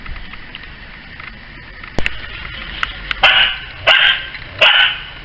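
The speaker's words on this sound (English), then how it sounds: "I've got my company in the garden with a dog, it seems." A dog barks three times in a garden, loud, close and evenly spaced, after a few faint knocks and clicks in the outdoor background.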